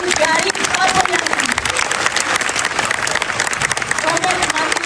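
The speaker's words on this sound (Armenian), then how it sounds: "ուզում եմ բարձր ծափահարություններով, բայց շատ բարձր խնդրում եմ դիմավորենք Գարիկ Խաչատրյանին" Loud, sustained audience applause fills the room without a break as a crowd welcomes performers on stage, steady and close throughout.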